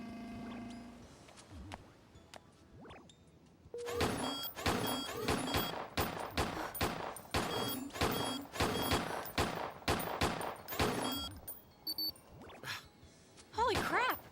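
Pistol shots ring out in a rapid series of about a dozen sharp cracks, evenly spaced and fairly close, with a few isolated shots after a brief pause and speech-like sounds mixed in.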